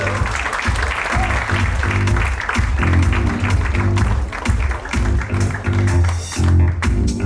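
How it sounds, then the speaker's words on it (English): An audience at a film trailer launch applauds actor Madhur Mittal with steady, dense clapping, while loud stage music with a repeating low beat plays underneath. "Madhur Mittal, ladies and gentlemen, big round of applause for him."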